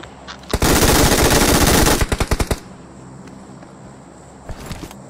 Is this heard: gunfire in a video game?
yes